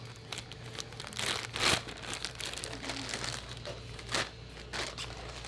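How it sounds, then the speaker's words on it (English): A package received in the mail is unboxed close up: plastic and paper crinkle and crumple in bursts, with a few sharper tearing rips, all quiet and with no talking. "we got something in the mail, and a little unboxing real quick"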